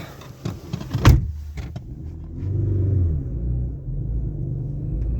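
A car drives along a freshly graded street of packed sand, soil and crushed stone, its engine rumble steady and close with a brief louder clunk near the start and no talk.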